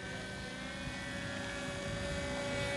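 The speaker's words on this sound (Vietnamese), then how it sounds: "Máy bay đang bay ngang chào khán giả đến thì chúng ta vỗ tay." A radio-controlled model airplane flies past at an RC flying contest in Hue, its engine a steady loud buzzing drone that swells slightly as it nears.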